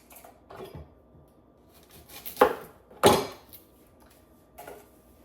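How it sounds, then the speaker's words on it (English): A few sharp knife chops through onions strike a cutting board, two louder ones close together, spaced out with quiet pauses between. "Just gonna start throwing these onions in there, chopping off the ends, give them a rough chop."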